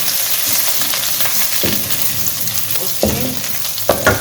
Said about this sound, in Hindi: इसमें हम लोग शामिल करेंगे लहसुन एंड जिंजर पेस्ट, मतलब इसको हल्का हल्का सा फ्राई करेंगे।